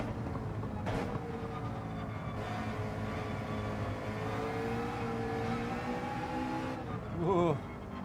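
McLaren race car engine in Gran Turismo 7, droning steadily with a held tone throughout and a brief rising rev burst near the end, loud and close under an engine mix.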